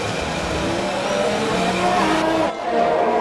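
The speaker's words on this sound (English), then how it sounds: "then he'll lock his tyre up going into turn 6" Formula 1 car in an Australian Grand Prix racing video game locking a tyre into a corner, a loud continuous engine roar with tyre scrub and skid noise, briefly dipping then resuming.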